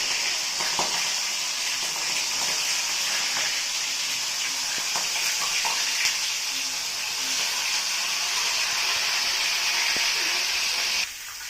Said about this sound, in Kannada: ನೋಡಿ ಇದನ್ನು ಇವಾಗ ಈ ಎಣ್ಣೆನೆಲ್ಲ ಹಾಕ್ಕೊಂಡು ಫ್ರೈ ಮಾಡ್ಕೊಂಡು ಫ್ರೆಂಡ್ಸ್